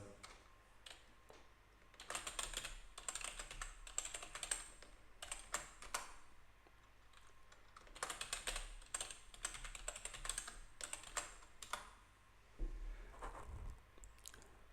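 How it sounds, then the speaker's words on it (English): Someone types a password on a computer keyboard, quick bursts of close clicking keystrokes separated by short pauses, quiet and with no talking. "So let me type the password."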